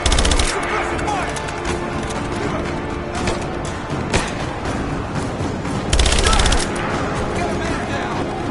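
Sustained suppressing gunfire in Rise of the Tomb Raider, a dense, loud, continuous rattle of automatic weapons with occasional heavier bursts, with voices shouting over the battle.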